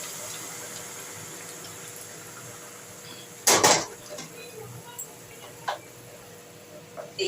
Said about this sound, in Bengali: তারপর আমি এই কড়াইয়ের ঝোলটা এর মধ্যে ফেলে দিচ্ছি